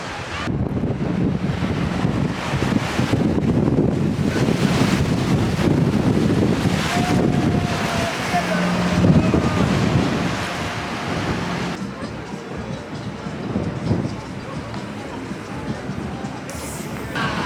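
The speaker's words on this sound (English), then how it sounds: "as the waves bombard us" Waves surge and break along the Kent coast between Birchington-on-sea and Margate while strong wind buffets the microphone, making a loud, continuous roar up close with no clear speech.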